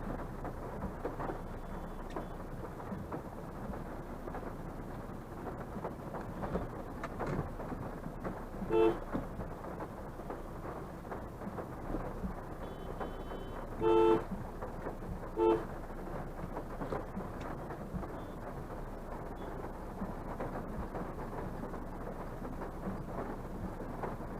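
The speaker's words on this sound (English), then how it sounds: "It's raining cats and dogs now." Steady, dense wash of heavy rainfall drumming on a Hyundai i20 Active 1.4 CRDi while driving, with a few brief horn toots and passing traffic in the background.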